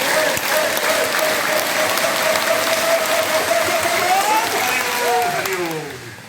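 A large group of schoolchildren at an inter college claps together in dense, sustained applause, loud and close. A voice chants over it, rising in pitch near the end.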